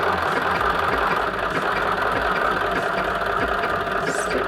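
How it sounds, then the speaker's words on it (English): A sewing machine runs steadily while stitching around the indentation of a satchel bag, a constant mechanical whir and rapid needle clatter held at an even level throughout, with no talking. "Stitching around until we get to the other side"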